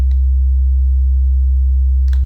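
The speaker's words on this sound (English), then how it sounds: "I'm just gonna use a sine wave again, like I did in my last video." A loud, pure low synthesizer sine tone holds steadily, then stops abruptly with a brief click.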